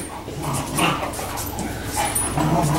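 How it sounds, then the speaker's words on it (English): Several house dogs whimper, yip and bark in an agitated jumble, fairly loud and close, over a steady indoor background with no clear speech. "Our dogs are going crazy."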